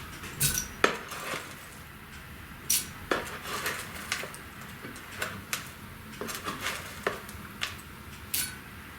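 A dessert spoon scoops Lanette wax pellets for a homemade lotion, giving a series of sharp metallic clinks and scrapes against a container at irregular intervals, close and clear with no talking.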